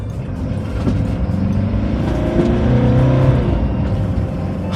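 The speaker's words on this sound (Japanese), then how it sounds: "せっかくなんでこれ20キロから60キロまで加速してみます。" A luxury camper van accelerating from 20 to 50 km/h after a toll booth, heard from the cabin as a loud, steady engine drone whose pitch climbs smoothly through the gears, with road rumble underneath.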